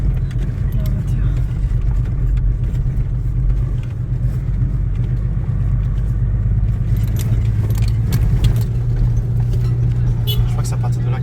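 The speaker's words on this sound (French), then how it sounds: "La voiture." Car engine running while driving on a rough road near the Guinée-Bissau and Guinée border, a loud steady low rumble with rattling and clinks throughout.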